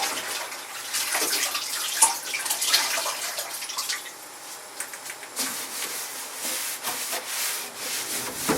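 A mahogany cabinet is scrubbed and rinsed with clean water, giving a close, uneven sound of rubbing and wet swishing in repeated strokes.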